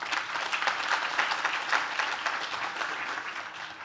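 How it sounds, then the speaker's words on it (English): An audience at an outdoor university plaza dedication ceremony applauds in a steady, dense round of clapping that holds level and tapers slightly at the end. "Another round of applause."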